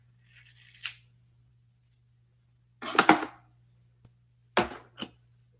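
Scissors snip through natural hair in three distinct cuts spaced a second or two apart. Each cut is a crisp close crunch, and the cuts are separated by near silence over a faint steady hum.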